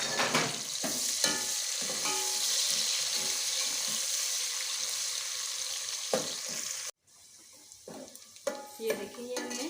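Chopped onions dropped into hot oil in a pan while making chicken fry pulao, giving a steady close sizzle with stirring clatter and scraping, then a sharp cut and a quieter, crackling fry.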